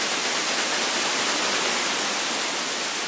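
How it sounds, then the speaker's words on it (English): A synthesized full white noise uplifter, produced as an ear-candy effect, holds a dense, bright, even hiss at constant loudness throughout, with no variation or other sound. "just a full white noise there"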